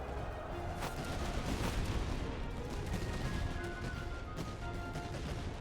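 Musket volleys crackle through a dense, continuous battlefield din in the Napoleonic-era war game Master of Command, with a steady wash of massed gunfire and no clear pauses.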